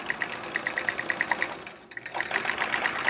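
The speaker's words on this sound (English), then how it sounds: "changing the belt, the sewing machine belt in this machine has made a huge difference" A sewing machine runs steadily during free motion quilting, its rapid, even needle stitching close and continuous, pausing briefly midway before resuming at the same quick rhythm.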